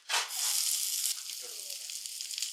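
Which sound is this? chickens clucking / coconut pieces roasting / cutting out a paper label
coconut pieces roasting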